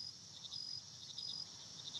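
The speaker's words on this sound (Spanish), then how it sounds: "de una noche, que está entrando la noche, y se escuchan grillos" Crickets chirp at night in a recorded ambience, a steady high trill with pulsing chirps over a quiet, still background, with no voices.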